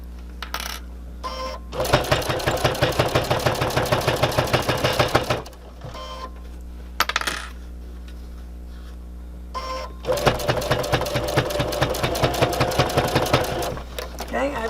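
A sewing machine stitches a fabric mask in fast, rhythmic bursts of mechanical chatter, pausing between runs with a steady motor hum underneath, close and loud.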